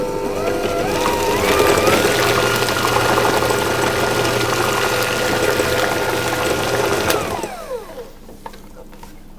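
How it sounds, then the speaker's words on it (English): Butter being whisked into muffin batter for coconut and chocolate muffins, a steady mixing whir with churning texture that runs loud and continuous for about seven seconds before stopping abruptly. "it will break down quite easily with the whisk. And I'm going to mix that in"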